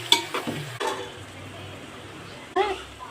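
Cucumber, drumstick, onion and curry leaves sizzle and fry in a pan for tomato curry, with a few sharp stirring scrapes at the start and again near the end. A voice talks over the sizzling.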